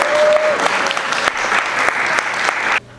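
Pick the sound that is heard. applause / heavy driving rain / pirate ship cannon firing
applause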